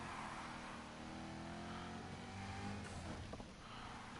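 Chevrolet Camaro SS in the Need for Speed Heat racing game, its engine droning and revving steadily at low volume, with a slight rise in pitch toward the end.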